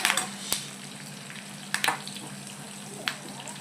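Garlic sizzles steadily in hot oil as a tempering for tomato rasam, a constant close frying crackle broken by a few sharp clicks of a spoon or pan.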